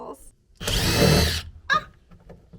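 A power drill driving screws whirs in one steady burst of nearly a second, followed by a short second spin, with brief voice sounds and handling noises around it.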